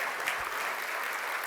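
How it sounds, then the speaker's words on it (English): A summit audience in Gothenburg gives a steady round of applause, a dense, continuous wash of many hands clapping with no voices over it. "We give him a round of applause before we start the conversation."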